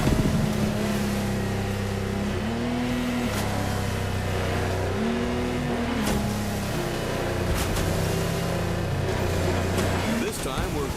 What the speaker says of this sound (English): This time we're going offshore with way bigger boats, including the incredible Lamborghini Technomar.